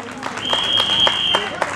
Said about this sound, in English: let us give them a round of applause